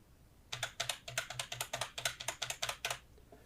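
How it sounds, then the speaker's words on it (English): Random quick typing on a computer keyboard, a rapid burst of about twenty crisp, close key clicks in an uneven rhythm lasting a couple of seconds, then quiet. "I'm going to quickly type something randomly on my keyboard"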